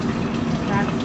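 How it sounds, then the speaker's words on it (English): Braising liquid poured over a chuck steak for a barbecue braise: a steady, low gushing and filling sound with a continuous, muffled wash. "We've got our braising liquid here, and I'm just going to go ahead pour that right over, not getting splashed."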